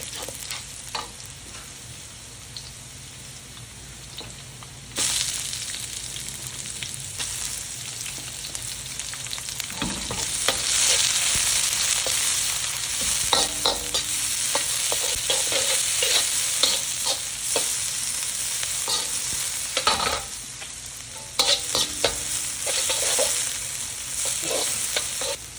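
Rice noodle ingredients fry in a pan with salt added, the oil sizzling continuously while a utensil stirs and scrapes, with louder clattering bursts of stirring at intervals over a steady hiss.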